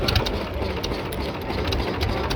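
A motorboat engine runs in the Sundarbans, a close, steady rapid chugging with a rattly mechanical edge, loud and unbroken with no voices over it.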